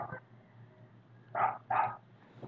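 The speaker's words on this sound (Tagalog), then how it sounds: "Pagpasensya nyo na yung aso." A dog barks twice in quick succession, moderately close, sharp and loud against a quiet room hum, with a faint earlier yelp.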